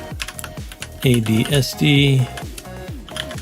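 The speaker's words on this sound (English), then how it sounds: "And then I'm gonna get a little typing practice in here and see how I do." Quick clicking keystrokes on a computer keyboard, a steady run of close, crisp taps with short spoken words over the top.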